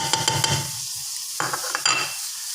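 Tomatoes, onion and curry leaves fry in hot oil in a pan for a biryani, a steady close sizzle with spoon stirring and scraping bursts at the start and again near the end.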